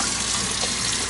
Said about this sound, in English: I'm going to switch this all the way to hot. You can see the water pressure is good.